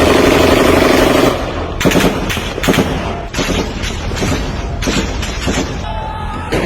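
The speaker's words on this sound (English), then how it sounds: "And heavy gunfire started." Heavy gunfire crackles in rapid bursts, opening with a dense roar and then continuing as loud, sharp shots fired in fast succession.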